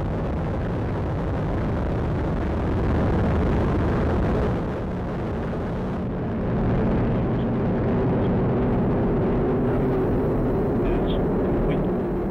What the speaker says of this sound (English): We have ignition and liftoff of the United Launch Alliance Atlas V rocket